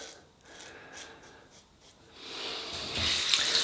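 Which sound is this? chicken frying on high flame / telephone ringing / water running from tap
water running from tap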